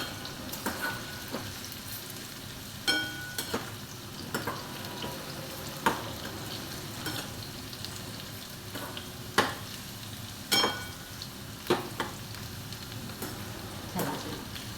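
Okra deep frying in hot oil, a steady bubbling sizzle running throughout with scattered louder pops and crackles, close by and with no voices.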